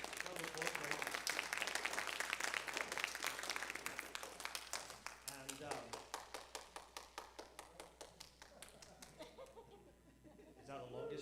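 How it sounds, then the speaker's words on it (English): Applause from a church congregation, dense at first and then thinning into a few distinct, rhythmic hand claps that fade, with murmured voices rising at the end. "Yeah, round of applause."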